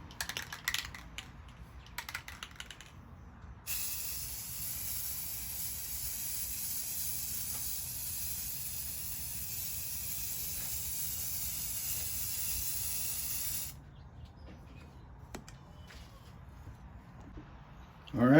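A spray gun sends a steady, close hiss while laying the second coat of paint on a quarter midget race car, a continuous blast of about ten seconds framed by quieter handling noises before and after.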